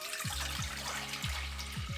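Water pours into a Pyrex glass measuring cup as a steady splashing stream, with a low gurgle recurring roughly every half second.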